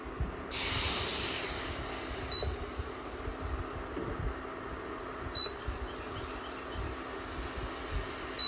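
Flour cooks in melted fat and butter for a roux with a steady, soft sizzling hiss, brief louder spray at the start, and a few faint high beeps in the background.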